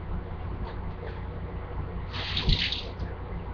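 Running tap water over a potato being washed in a kitchen sink, a steady soft stream with a brief louder splash near the end, fairly quiet throughout.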